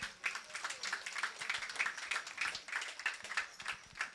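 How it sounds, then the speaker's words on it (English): Applause for the players at the Under 18 final of a youth cricket tournament, a steady patter of many hands clapping, fairly quiet and distant, with no voices over it. "I think you all deserve a round of applause"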